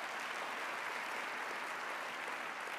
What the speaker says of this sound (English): Could we have a round of applause for Mort?